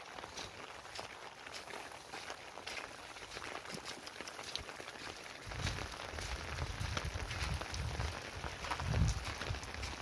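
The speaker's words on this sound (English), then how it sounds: "I know I'm getting rain all over me." Rain patters steadily on an umbrella during a walk outdoors, a dense even hiss with soft footsteps growing heavier and closer toward the end.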